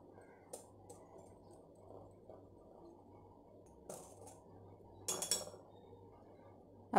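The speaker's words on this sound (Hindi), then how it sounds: "इन सारी चीज़ों को मिक्स कर लेंगे।" A spoon stirs sifted dry cake ingredients together with powdered sugar in a bowl for an oven-free chocolate cake, giving soft scraping with a few light clinks against the bowl over a faint steady hum.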